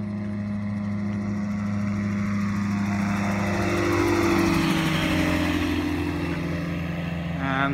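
Tango 2 gyroplane flying a left bank from base to final approach for runway 10 at Cedartown's Polk County Airport, its steady engine and rotor drone continuous throughout, swelling slightly mid-clip as it passes closer.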